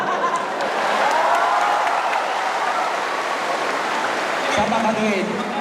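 Audience at a Mindoro religious debate between INC and SDA breaks into sustained, hissing applause from a crowd, with a voice speaking over it throughout.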